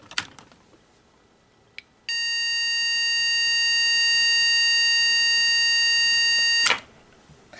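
A mini desktop computer sounds a steady electronic startup tone at power-on. A short click comes first, then one loud, sustained beep holds for about four and a half seconds before cutting off sharply, with no other sound around it.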